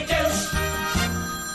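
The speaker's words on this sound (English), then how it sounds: "Hold it, everybody. That's my phone." A mobile phone rings with a loud, melodic ringtone that repeats in short, even tonal bursts, with no voices over it.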